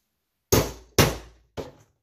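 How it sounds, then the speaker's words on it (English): A hammer strikes metal being folded while a homemade gladius machete and sheath are built, giving three sharp, close, ringing blows, the last one softer, each followed by a short decay. "use your hammer."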